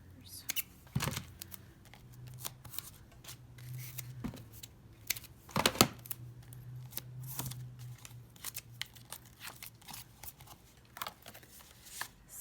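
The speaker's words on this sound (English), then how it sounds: "Some scissors." Scissors snipping paper during card making, a run of short, irregular crisp cuts and rustles at close range with handling noise between them.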